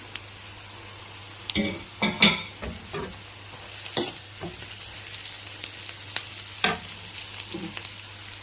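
Onions and curry leaves sizzle softly in a tempering for bitter gourd, with a low steady frying hiss broken by scattered clinks and scrapes of a stirring spoon.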